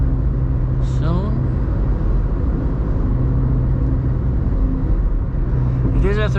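The 1.0-litre three-cylinder engine of a VW Up drones as a steady low rumble while driving, with a voice talking over it.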